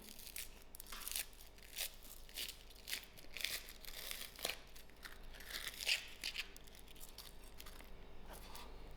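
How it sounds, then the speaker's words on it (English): Papery onion skin peeled away by hand for onion bhaji, soft crinkling and tearing crackles in quick irregular bursts, faint and close with no voices. "and then we take off the peel."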